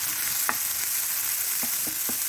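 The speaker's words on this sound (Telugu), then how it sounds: "ఇది లైట్ బ్రౌన్ వచ్చేదాకా ఉల్లిపాయలు వేగనివ్వాలి" Onions fry toward light brown in a pan for a cabbage and potato curry, with a constant bright hiss and a few quick stirring knocks of a spatula against the metal.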